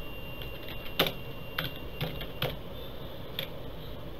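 Typing on a computer keyboard comes as a handful of sparse, distinct key clicks spread unevenly over a few seconds, close and fairly quiet over a faint background hum, with no talk.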